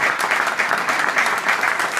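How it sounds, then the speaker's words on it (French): An audience at an inauguration evening claps for two young men, a loud continuous patter of many hands throughout with no speech. "on peut applaudir ces deux jeunes hommes"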